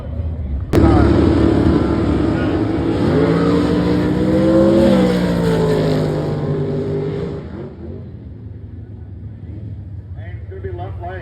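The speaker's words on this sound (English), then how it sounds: "Dalton Nikes is running in high gear only" Drag racing car at a dragway launching down the strip in high gear only, a loud sharp onset followed by a rising, roaring engine pull that fades after several seconds, with an announcer talking over it.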